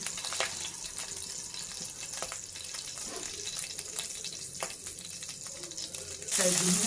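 Mustard seeds, cumin and a green chili sizzle in a spoonful of hot oil, a continuous close crackle with scattered pops and a louder burst of hissing near the end.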